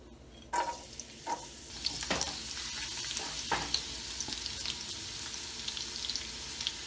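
Chopped garlic hits hot oil with a sudden sizzle, followed by steady crackling and a few stirring clatters, close and fairly loud.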